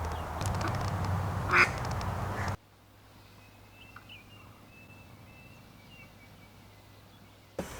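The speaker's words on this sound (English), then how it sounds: "Kitty's looking at the little duck." A duck gives a couple of short nasal quacks amid steady outdoor background noise, then the scene drops to near quiet with faint high chirps.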